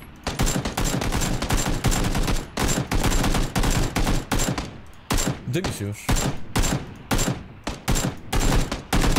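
Bursts of SCAR assault rifle fire in PUBG, loud and close, rapid volleys broken by short pauses across the stretch, with a player talking briefly over the shooting.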